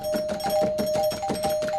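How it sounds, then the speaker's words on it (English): Doorbell chiming repeatedly in a steady rhythm, a sustained electronic tone with regular pulses, heard at 4 in the morning. "Receiving doorbell notifications at 4 in the morning is never a good sign."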